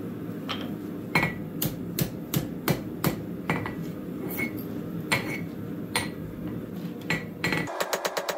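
A hammer forging the spine of a knife made from a crowbar, a run of sharp metallic strikes on the anvil at an uneven working rhythm, close and loud, ending in a quick burst of lighter taps.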